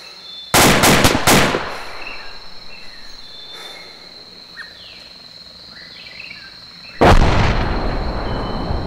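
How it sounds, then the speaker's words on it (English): Heavy gunfire and explosions in a military shooter video game, with a burst of loud rapid shots early and another loud blast near the end, over quieter battlefield ambience with a steady high whine. "What's that explosion?"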